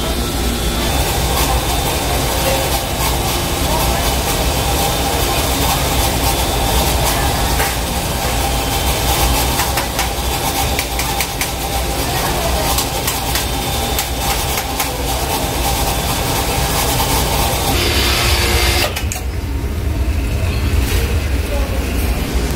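An electric household water pump motor runs steadily while the pressure tank fills, a loud continuous mechanical hum that shifts and drops off near the end as the pressure switch cuts it off.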